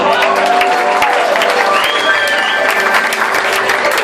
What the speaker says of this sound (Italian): Un applauso al signore!